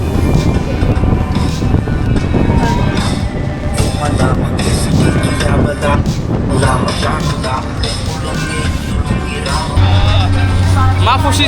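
Wind and engine rumble from a speedboat run by a water sports operator off Maafushi in the Maldives, a steady loud roar with buffeting wind noise on the microphone and voices talking over it throughout.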